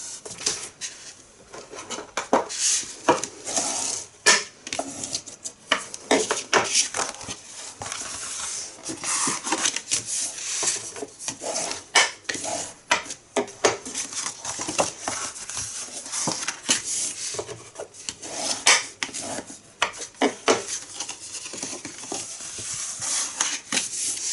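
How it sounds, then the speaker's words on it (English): Grey board being burnished along its score lines, a busy close run of scraping, rubbing strokes in irregular rhythm throughout. "we burnish our score lines"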